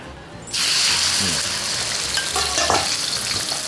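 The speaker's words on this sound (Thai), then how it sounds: "ตับนะครับน้ำมันร้อนบานกลางนะครับ แล้วลงเลยนะ" Pork liver drops into hot oil and bursts into a loud, sustained sizzle after a quiet moment, with a few clinks and scrapes from stirring.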